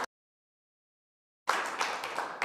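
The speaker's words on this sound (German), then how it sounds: "Den Applaus haben Sie jetzt schon vorweggenommen." Audience applause at a literary prize award ceremony bursts in after a silent gap, a dense, steady clapping from a seated crowd that continues to the end.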